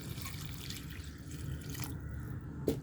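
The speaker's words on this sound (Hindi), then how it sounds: "पानी डाल देती हूँ।" Water pours into a pot of rice with green chillies, fresh coriander and dried plums for pulao, a continuous splashing trickle heard close up with a few drips.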